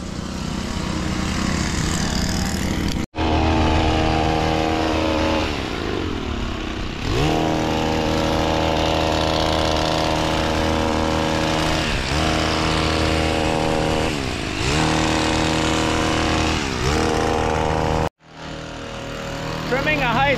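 A gas-engine hedge trimmer cuts cedar hedges at a high school in Windsor, Quebec. It drones loud and steady for the whole stretch, with its pitch wavering and dipping as the blades bite, and it cuts out briefly twice.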